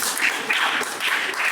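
Audience applause at a Hindi literary book event honouring a professor's fifty years of writing, a steady wash of many hands clapping, fairly loud and continuous with no talk over it.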